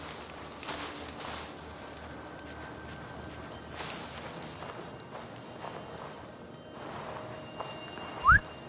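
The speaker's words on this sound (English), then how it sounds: "It's a whistling bush." In Assassin's Creed Valhalla, a whistling bush gives a short rising whistle near the end, over soft footsteps and ambient game sounds.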